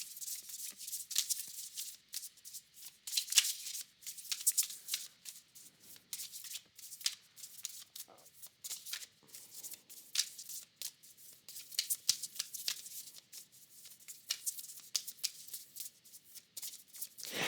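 Tarot cards being shuffled by hand, a run of crisp riffling flutters and soft slaps that come in uneven bursts, close and fairly quiet, with no talking.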